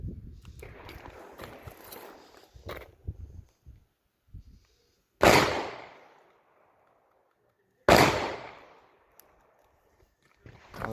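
Two sharp, loud gunshots from a Taurus Judge Public Defender Polymer revolver fired at a target, spaced a few seconds apart, each ringing out and decaying, with some handling noise before them.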